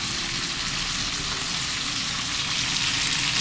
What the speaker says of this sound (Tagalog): Na pineritong salmon.